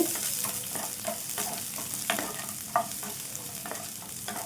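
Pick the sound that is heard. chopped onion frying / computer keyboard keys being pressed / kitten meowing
chopped onion frying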